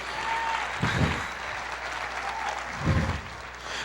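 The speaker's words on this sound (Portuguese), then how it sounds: "Pode aplaudir o Senhor" A church congregation applauds during a sermon: steady, dense clapping fills the room throughout, with a couple of heavier thumps rising out of the crowd noise.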